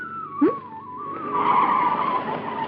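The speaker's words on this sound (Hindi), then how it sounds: "आउच, गाड़ी क्यों रोक ली?" A car braking suddenly, with a sharp thump followed by a loud, sustained tire squeal that swells and lingers close by over a continuous engine drone.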